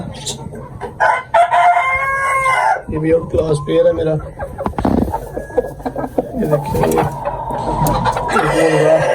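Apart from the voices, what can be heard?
roosters crowing and clucking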